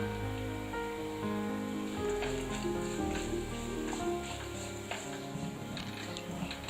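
Grated coconut fries in a pan while it is stirred, with curry leaves being added, for a Kerala Onam sadya dish: a steady close sizzle runs throughout, with faint scraping ticks from the stirring and a low tonal hum underneath.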